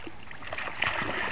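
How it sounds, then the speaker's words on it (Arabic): A child swims and splashes in a swimming pool during a Red Sea trip, short bright splashes of water close by over a brief stretch, with a voice heard faintly. "وناجي بيعوم تحت الميه اهو، شطور خالص"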